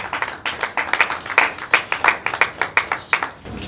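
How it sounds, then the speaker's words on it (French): Audience applause at a Congolese film awards ceremony, a few hands clapping in a clear, fairly close and rhythmic pattern of distinct claps that tapers off near the end. "Sous vos applaudissements, Madame Némi Kabea."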